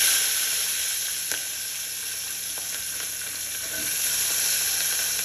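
Green chillies sizzle in hot oil in a pan, making a steady, close frying hiss that holds evenly throughout, with a few faint clicks and no voices.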